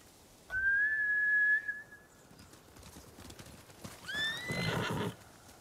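Samurai horses in the video game Ghost of Tsushima whinny twice, a long high neigh and then a shorter one a few seconds later, with faint clattering between them.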